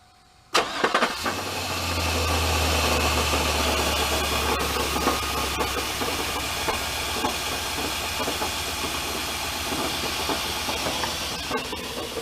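An LS-swapped Chevy C10 engine cranks and fires abruptly, then runs loud and close with a rough, hissing idle that fades slightly and stays uneven, with no talk over it.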